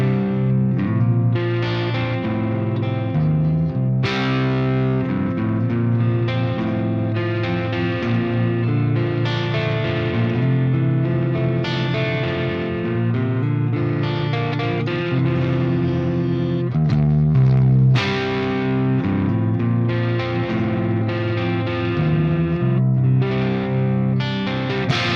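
Clean channel of a Marshall Silver Jubilee 2555X amplifier carrying electric guitar, played continuously with full chords and single notes ringing with slight effects shimmer, steady and fairly loud with no talking.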